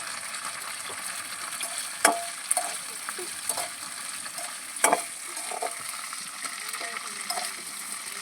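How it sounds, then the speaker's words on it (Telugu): Green chillies frying in oil for a chutney give a soft, steady sizzle with occasional sharp crackles and pops scattered throughout, fairly quiet and close. "పచ్చిమిరకాయల్లో నూనె పోసి"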